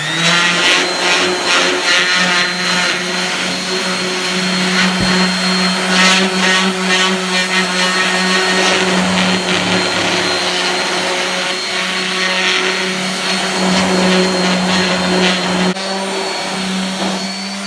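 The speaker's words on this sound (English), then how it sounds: "we got a very fine grit sandpaper on our random orbit sander." A random orbit sander fitted with very fine grit sandpaper runs steadily on a light fixture, a loud continuous close whir with a faint buzzing hum and no pauses, and no one speaks.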